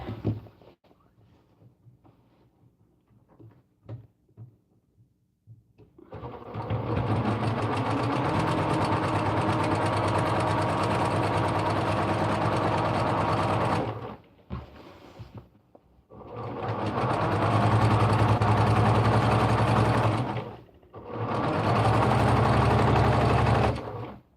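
A sewing machine runs a pillowcase seam with French seams in three long, loud, steady bursts of close mechanical whirring, separated by brief pauses and preceded by quiet handling of the fabric.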